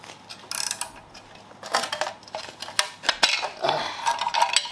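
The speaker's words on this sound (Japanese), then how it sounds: "ハブプーラーをセットして、これでプーラーを締め上げます" Metal clinks and ratcheting clatter from a hub puller being fitted and tightened onto the seized hub of a Mazda RX-7 FD3S under restoration; irregular, close-up knocks and scrapes come in bursts, growing busier toward the end.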